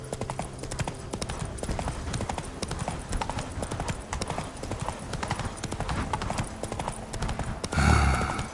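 A horse galloping in The Witcher 3, its hooves clip-clopping in a steady fast rhythm close by and loud throughout, ending with a short burst of heavier noise.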